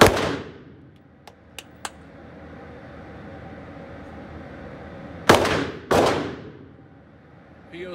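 Two sharp, loud pistol shots from a CZ P-07 firing 115 grain ammunition at 7 yards, about half a second apart, with a few faint clicks before them and an outdoor background hum between.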